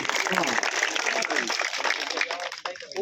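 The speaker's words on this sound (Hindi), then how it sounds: "बस ताली बजा दो" A crowd applauds steadily with dense, continuous clapping at moderate volume, which thins out slightly near the end.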